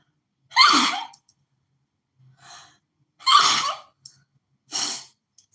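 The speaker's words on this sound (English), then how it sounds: "Sorry, guys, I sneezed." Several sharp, close sneezes from a single person in a quiet room, arriving in spaced bursts with short gasping breaths between them, and no talk.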